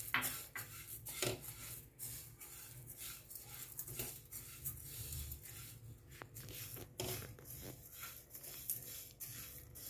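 Dry roasting cumin, fennel, black pepper, cinnamon, cloves and cardamom in a pan, a steady scraping and rattling of spices against metal with frequent sharp clicks of the spoon, continuous and close.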